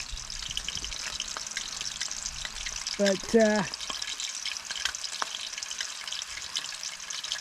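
Hot oil crackles and spatters as water hits it while frying a seaweed snack at a campsite. The popping sizzle runs continuously, with a voice speaking briefly in the middle.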